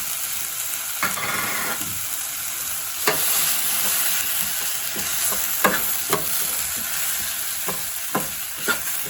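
Kuzhambu powder and coriander powder are sautéed in a pan for ladies finger kuzhambu, with a continuous soft sizzle broken by scraping stirs from a spoon against the pan.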